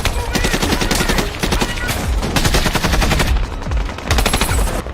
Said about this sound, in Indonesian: Dan baku tembak pun tak dapat dihindarkan lagi.